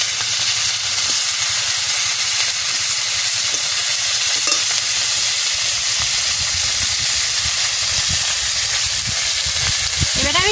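Tilapia fish frying in a pan give a loud, continuous hiss and sizzle, with occasional stirring clinks and scrapes near the end.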